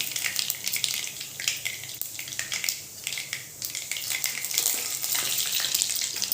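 Fenugreek seeds and cumin sizzling in hot oil for a sambar tempering, a bright, dense, continuous crackling hiss that swells and crackles close up, with no talking.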